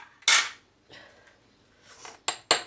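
A spoon clinks and scrapes against a dish while stuffing fried aubergines with a mince, onion and tomato filling for karniyarik: several sharp, close knocks separated by softer scooping sounds, with no talking.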